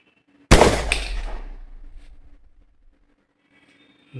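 A single loud gunshot in a film scene, with a sharp crack followed by a long rumbling decay that fades over about two seconds, then near silence.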